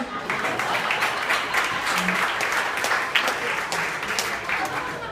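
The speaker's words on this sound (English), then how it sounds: "I just want you to give a big round of applause for them." Wedding guests applaud in a dense, continuous burst of clapping that fills the room at close range, steady and lively throughout.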